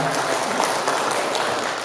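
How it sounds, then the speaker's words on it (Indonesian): Audience applause in a hotel conference hall after a question from the floor; dense, even clapping throughout, loud and close, fading slightly at the end. "Boleh kita kasih tepuk tangan?"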